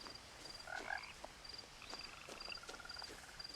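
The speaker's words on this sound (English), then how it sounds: "I just like the sound of frogs." Frog croaks from the video game What Remains of Edith Finch, a few brief calls among faint insect-like chirping and soft scattered rustles, quiet and close.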